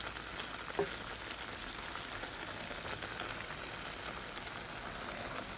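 Pork sizzles steadily in a frying pan as broccoli goes in, a constant broadband crackle and hiss with one brief soft knock near the start, fairly even in loudness throughout.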